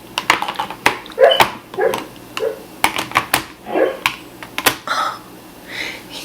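A sleeping dog whines and whimpers in soft, irregular bursts through a quiet indoor room, with scattered clicks and taps mixed in.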